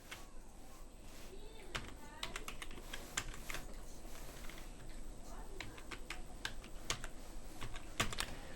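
Typing on a computer keyboard while building mirror text in Microsoft Publisher, a quiet close run of irregular key clicks with short pauses and a few louder taps near the end.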